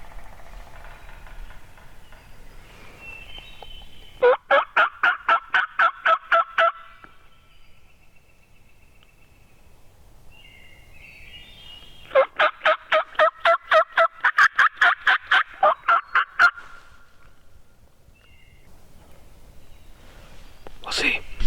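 Wild turkeys gobble on public land in Michigan's Upper Peninsula during a hunt, with two loud bursts of rapid rattling gobbles at mid distance and quieter calls and faint whispering between them.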